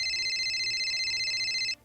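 A telephone rings with an incoming call, a loud steady electronic trill warbling rapidly for nearly two seconds before cutting off abruptly.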